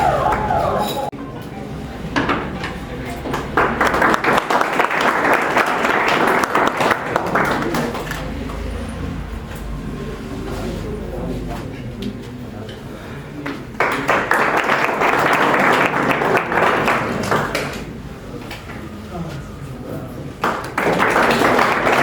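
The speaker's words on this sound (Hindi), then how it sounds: "जोरदार ताली बजा के स्वागत करिए" Audience at a felicitation ceremony bursting into loud applause in two long waves of clapping, with a brief pause and a voice in between.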